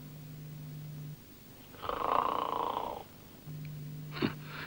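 A sleeping woman lets out one rough, drawn-out snore in a quiet room. A faint steady tone plays before and after it, and a short soft sniff follows.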